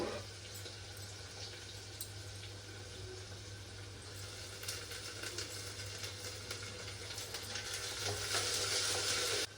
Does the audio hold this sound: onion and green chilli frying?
yes